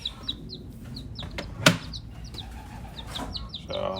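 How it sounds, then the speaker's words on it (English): Small bantam chickens make faint, high, repeated peeping calls in a quiet indoor coop, with one sharp knock midway and soft rustling underneath. "little bantam chickens from that rooster and the hen that's sitting more eggs downstairs"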